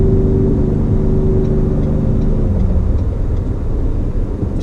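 A 2019 Ford F-150 Limited pickup with a twin-turbo engine pulls away from a dead stop in slow weekday traffic, its steady, smooth engine rumble rising under constant road noise.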